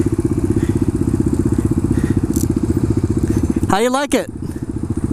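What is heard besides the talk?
Suzuki DR-200 motorcycle engine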